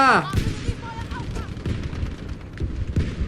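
Gunfire in the video game Battlefield V with an M1 Garand, loud close shots and booming reports in an uneven sequence mixed with game effects, with someone talking over it.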